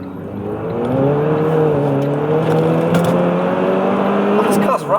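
A Renault Twingo 1.2T GT turbo engine accelerates hard from inside the cabin, a loud rising drone climbing through the revs, then a brief dip and clunk of a gear change near the end.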